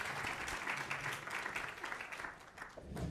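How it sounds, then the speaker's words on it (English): A symposium audience gives panelists a round of applause, fairly faint and distant steady clapping from a room full of people, with a few louder individual claps near the end. "so let's give a round of applause to everybody."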